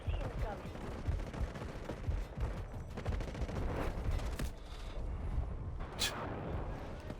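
Dense, loud gunfire barrage in a Delta Force battle, with rapid overlapping shots and blasts rolling continuously throughout, a sharp report standing out near the end.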